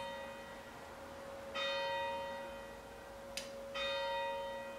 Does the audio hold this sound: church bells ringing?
yes